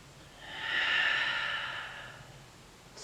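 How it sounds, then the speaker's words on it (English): One slow, deep belly breath drawn in and let out during a hip-focused yoga practice, a soft airy rush close by that swells and fades, with no talking. "a few deep belly breaths here"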